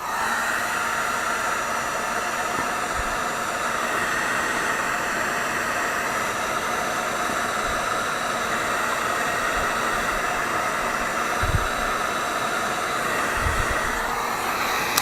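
A handheld heat tool blows over craft material, a steady airy hiss held at an even level throughout, with a few soft knocks beneath it.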